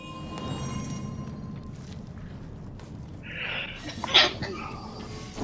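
A single short sneeze sounds near the end of a quiet stretch of online game chatter, faint and brief against low background noise.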